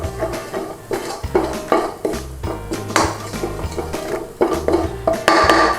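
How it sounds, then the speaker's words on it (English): Metal utensil scraping and clanking against a pan while stirring spices for a British Indian restaurant-style chicken rogan josh, repeated close knocks and scrapes in an uneven rhythm. "So get all our spices in there and give it a little stir around."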